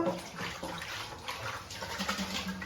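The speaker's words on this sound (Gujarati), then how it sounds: "જો મિત્રો સ્કૂલની બોટલ પાણીની ધોઈ નાખીએ." A school water bottle is rinsed under a running tap at home, water splashing and gurgling steadily and fairly close, with faint household background noise.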